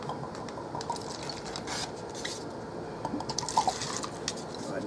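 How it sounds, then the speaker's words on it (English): Whiskey poured from a bottle into a snifter glass in a hotel room, a short soft liquid trickle and splash, close and quiet, with no talking. "Go ahead and pour myself a little bit."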